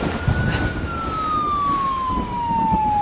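An emergency siren wails alone, one long steady tone gliding slowly downward across the whole stretch, moderately loud and somewhat distant.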